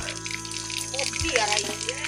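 Water flows steadily at a farm, a continuous trickling rush heard under a voice.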